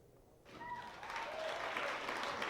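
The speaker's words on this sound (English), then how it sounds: "Rounds of applause welcomed candidates" Applause swells up from quiet and continues as steady clapping from a crowd, heard at a moderate distance.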